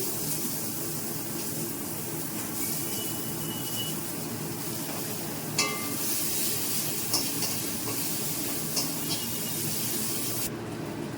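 Steady crackling sizzle of onions frying in hot oil, continuous and close, with a few faint scrapes and clinks of a utensil against the pan.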